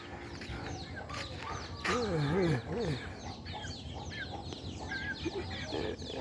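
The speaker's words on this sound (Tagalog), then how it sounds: "Nilapitan kasi siya ng manok." Chickens cluck and squawk close by in a farmyard, with a louder wavering call in the middle, amid people talking and rustling.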